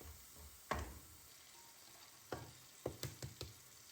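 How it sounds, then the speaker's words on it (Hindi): Masala of salt, red chilli powder, turmeric, dried coriander, cumin and dried fenugreek frying in a pan, giving a low steady sizzle with several sharp spits and pops, a burst near the start and a cluster toward the end. "जब तक मसाला हमारा जो है तो वो भून रहा है"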